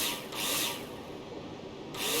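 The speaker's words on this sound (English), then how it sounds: "Take your drill out and screw them in." A power drill drives screws into plasterboard in the Builder Simulator video game: short bursts of bright whirring at the start, a quieter stretch, then another burst at the end.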